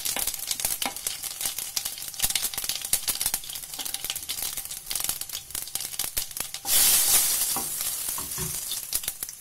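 Spices, starting with cumin and coriander, crackle and sizzle in hot oil for a tadka while making fenugreek-spinach saag; a steady close frying hiss with stirring scrapes, flaring louder near the end.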